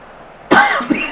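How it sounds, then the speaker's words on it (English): Two sharp coughs from a man, close to the mic, the second shorter and weaker, following a moment of quiet with no talk. "This cough is really annoying."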